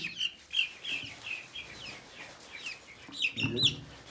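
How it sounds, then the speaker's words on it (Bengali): Brahma chickens give a series of soft, repeated clucks and short chirpy calls at close range, ending in a louder burst of clucking with a rustle. "এইটা হলো প্রাহামা মুরগি"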